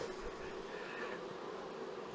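A dense, steady hum of many honey bees buzzing together around a hive, soft but continuous, with no talking.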